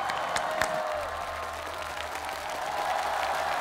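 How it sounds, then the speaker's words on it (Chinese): A crowd at a televised basketball competition applauds and cheers after a thrilling play. The noise is a steady broad wash, with a voice carrying over it. "来吧，掌声送给阳明队"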